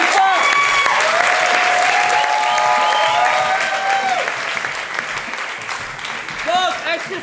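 Audience applause at an improv show during a Paris improvisation festival, a sustained burst of clapping that gradually thins out, with a voice talking over it.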